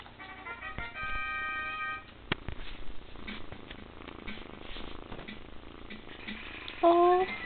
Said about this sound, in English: Oh, purring.